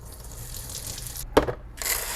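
Tap water running at a sink while houseplant roots are rinsed, a short gushing flow that breaks off briefly with a splash and then resumes.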